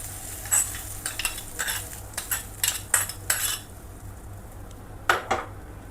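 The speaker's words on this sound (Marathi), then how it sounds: "आता आपल्याला मिक्स करून घ्यायचं आहे" Metal spoon stirring fresh chilli tadka into curd in a bowl, a series of sharp clinks and scrapes in an uneven rhythm, close and clear, then fading out near the end.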